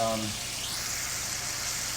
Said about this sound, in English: gonna finish frying up the rest of this fish